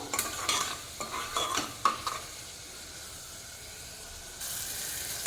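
Tomato being stirred and fried in a pan while making bottle gourd with prawns in a pressure cooker: a steady close sizzle broken by spatula scrapes and clacks in the first two seconds, then a louder even hiss near the end.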